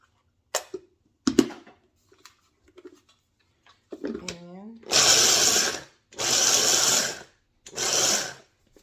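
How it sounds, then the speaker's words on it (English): Pecan nuts ground for baklava in an electric grinder: three loud whirring bursts of a second or so each, close up, preceded by quiet handling clicks and a brief rising motor spin-up. "So now we're going to grind the pecan nuts"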